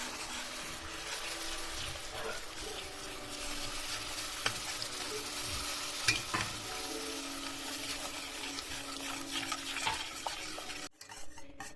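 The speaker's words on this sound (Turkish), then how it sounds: "Şimdi içine yavaş yavaş süt ekliyoruz." Milk is stirred slowly into toasted flour roux for béchamel, giving soft, continuous pan sizzle with scattered spoon scrapes and light clinks before a brief break near the end.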